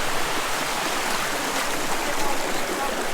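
Thermal water spills down the white travertine terraces at Pamukkale, a steady broadband rush of flowing and splashing water that stays close and fairly loud, with no speech.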